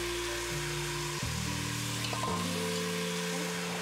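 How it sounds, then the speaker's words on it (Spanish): Chicken pieces dropped into browned, caramelized sugar in a pan, sizzling steadily and loudly up close with no talk. "Cuando el azúcar ha alcanzado un color caramelo, marroncito, añadimos nuestra carne antes que se queme el azúcar"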